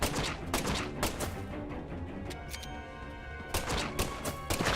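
Rapid bursts of gunfire from a gun in the video game Deadly Premonition 2, with dense volleys of loud, sharp shots in clusters at the start and end and a busier, muddier stretch between.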